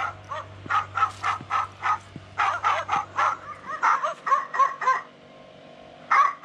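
An electronic anti-heron deterrent at a pond repeatedly emits short, harsh dog-like barks in quick bursts, fairly close, with brief pauses and a low hum at first.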